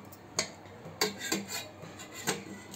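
Steel pots lifted out of a cooled pressure cooker after cooking dal and rice, giving four or five sharp metallic clinks and scrapes spaced irregularly, close and fairly quiet.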